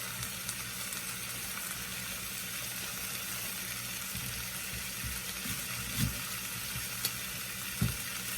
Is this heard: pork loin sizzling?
yes